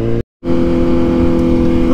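Motor vehicle engines roar loudly and steadily close by at Laconia Bike Week, with one sudden brief dropout early on, fitting the many motorcycles rolling past, heard with no talk.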